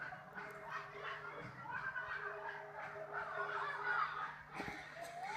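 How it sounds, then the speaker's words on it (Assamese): Swans at a pond at a temple site in Assam give steady honking, goose-like calls that carry on through a noisy outdoor background at moderate distance. "এয়া তাত ৰাজহাঁহ আছে, আমি এতিয়া আপোনালোকক ৰাজহাঁহ দেখাম"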